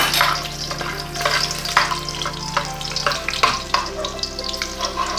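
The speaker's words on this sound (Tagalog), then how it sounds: "Kasi mainit na yung ating mantika. Ilagay na po natin yung ating bawang. Ano po. Gisa po natin siya." Garlic sautéing in hot oil in a pan for homemade sambal, a loud close sizzle broken by repeated scraping strokes of a spatula at an irregular rhythm.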